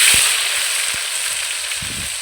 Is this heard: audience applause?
no